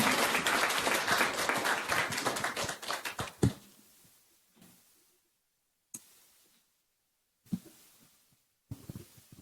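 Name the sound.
audience applause for panel speakers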